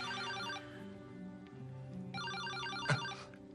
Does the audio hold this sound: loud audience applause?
no